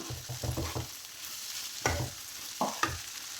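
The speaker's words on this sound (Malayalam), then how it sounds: "പിന്നീട് ഒരു 1/4 കപ്പ് ചിരകിയ തേങ്ങയാണ്, അതിട്ട് കൊടുക്കാം. ഒന്ന് ഇളക്കി കൊടുക്കാം." A spoon stirs grated coconut through moong dal frying in a pan: a quick run of scraping strokes, then a few separate louder scrapes over a steady, close sizzle.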